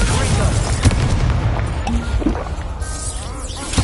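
An Incendio fire spell cast in Hogwarts Legacy brings a loud whooshing burst and booming crackle of flame amid other combat effects and possible voices.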